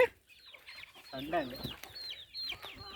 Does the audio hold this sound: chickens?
yes